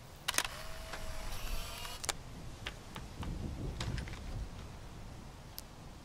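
A camera snapping a photo in the video game Life Is Strange gives a sharp shutter click, a brief whirring film-advance tone and a second click, followed by scattered faint ticks in a quiet room.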